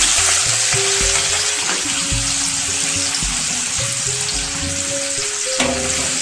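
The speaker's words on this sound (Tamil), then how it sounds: "இப்போ வந்து வெங்காயம் கட் வச்சுருக்க வெங்காயத்தை சேர்த்துப்போம்" Onion frying in hot oil with cinnamon and cardamom for a prawn biryani, a loud, steady sizzle that carries on throughout with no talking.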